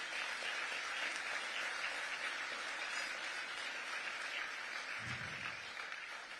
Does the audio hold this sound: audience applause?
yes